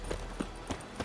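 The horse Roach in The Witcher 3 clops its hooves in a slow, regular rhythm of about four soft thuds over a constant game background hum.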